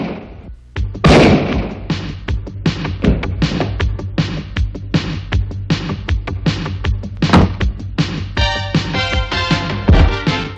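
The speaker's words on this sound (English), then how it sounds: "Turk shows up, and then a gun battle ensues" Gunfire in a movie hallway gun battle: a dense, loud barrage of sharp shots and booming thumps, rapid and irregular, with overlapping reports and near-continuous rumble throughout.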